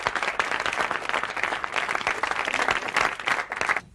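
Dense audience applause for emerging performers at a guest house gathering, steady and loud throughout, cutting off abruptly near the end.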